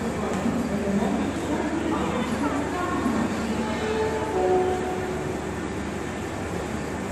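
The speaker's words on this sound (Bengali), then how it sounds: "যে বন্দে ভারত ঢুকছে।" A Vande Bharat train rolls into Santragachi station with a steady low rumble and a mechanical hum, and people talk nearby over the noise.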